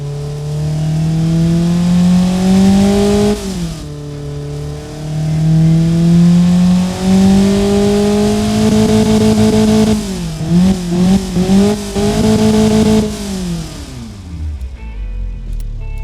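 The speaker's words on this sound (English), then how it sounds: "Let's hear the engine right now. As you can hear, it sounds much louder." A tuned Daewoo S-TEC II 1.0L engine in the Automation car game, loud and close, revving up and holding high, dropping briefly, then climbing again through several quick blips before winding down.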